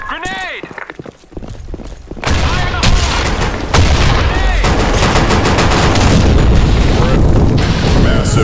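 Video game combat in Blackshot: a heavy grenade blast followed by rapid, loud gunfire and repeated shots, close and sustained, with announcer-style voice calls underneath.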